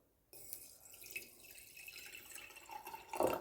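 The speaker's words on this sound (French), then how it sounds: "Je vais recouvrir d'eau" Water pours into a jar of seeds being covered for sprouting, a close, soft continuous trickle that builds to a fuller splash near the end, with no voices.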